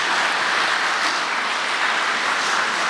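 An audience clapping, a dense, even wash of many hands applauding throughout, moderately loud with no distinct individual claps standing out.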